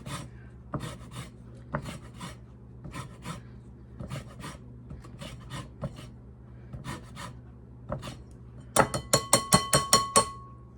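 A lemon being zested on a rasp grater, giving repeated short scraping strokes in uneven bursts, then a quick run of sharper, brighter rasps near the end, close and alone with no talk.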